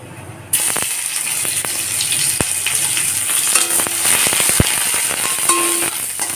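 Onion hits hot mustard oil tempered with nigella seeds and dried red chilli, with a sudden loud sizzle that keeps crackling and popping, broken by sharp clicks of a spatula against the pan.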